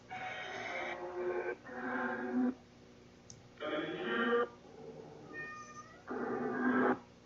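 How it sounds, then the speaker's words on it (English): A cat meows several times in drawn-out, wavering calls with pauses between them, fairly close and clear, over a faint electronic hum. "That's my cat."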